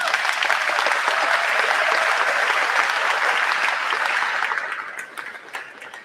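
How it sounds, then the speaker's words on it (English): Audience applause at an eighth-grade awards ceremony, a full, steady roar of many clapping hands that thins out and fades into scattered claps over the last second or two. "I would just like to give him a round of applause for it."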